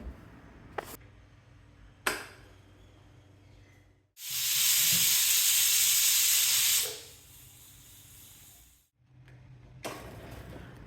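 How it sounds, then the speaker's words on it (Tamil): A pressure cooker on medium flame with tomato kurma inside lets out one loud, sustained steam hiss lasting a few seconds, with faint ticks and clicks in the quiet before and after. "குக்கரை மூடி மீடியம் ஃப்ளேமில் 3 இல்லை 4 விசில் வச்சா போதும்."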